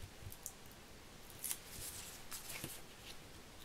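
Scissors snip through excess paper while an artist trading triangle is trimmed, a few faint, crisp cuts and papery rustles at close range in a quiet room.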